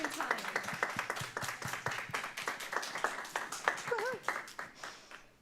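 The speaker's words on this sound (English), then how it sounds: "Everybody give her one more round of applause" Applause from a small audience at a cozy role-playing game session, scattered claps and cheers heard under someone talking over them.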